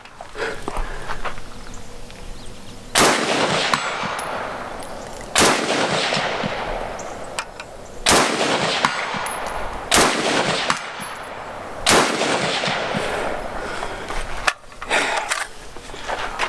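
A Norinco Type 97 rifle fires about six loud, close shots at irregular intervals of roughly two to three seconds. Each report is sharp and ends in a long echoing decay, and no one speaks.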